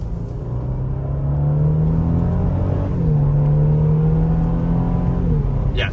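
A 2019 Mercedes E450 convertible accelerating through paddle-shifted gears, its engine note climbing steadily, dropping at a shift around the midpoint, then climbing again, heard from inside the car.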